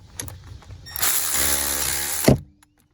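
A cordless ratchet with a swivel socket whirs steadily for about a second and a half, close and loud, with a sharp clack as it stops, working on the alternator of a 2007 Trailblazer 4.2.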